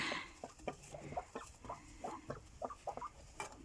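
Indian Runner ducks quack and chatter in short, rapid bursts close by, several birds calling over one another with no talk.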